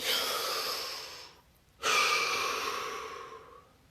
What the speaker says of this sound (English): Take those breaths. Breaths are free, as many as you like. Deep breath.